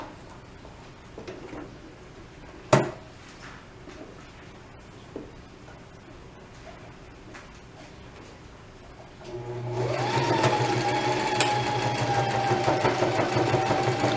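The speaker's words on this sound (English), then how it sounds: "I'm actually going to start sewing right there." Sewing machine stitching across a tote bag strap with a back stitch: a steady mechanical whir starts partway through after a quiet stretch with a single sharp knock, then runs continuously at close range with no talk.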